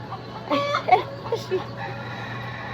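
A rooster crows in short bursts over a steady low hum, with a voice murmuring in the background.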